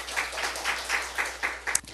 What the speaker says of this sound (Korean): 우리 하나님께 박수 올려드립니다.